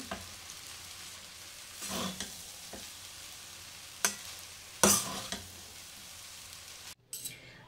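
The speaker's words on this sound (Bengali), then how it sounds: "গ্যাসটা একদম কম করে রাখবো, দিয়ে এটাকে ভালো করে মিশিয়ে নেব।" Prawn egg fried rice is stirred in a pan over a low gas flame, giving a faint sizzle broken by intermittent scrapes and clatters of the spatula, with no voices.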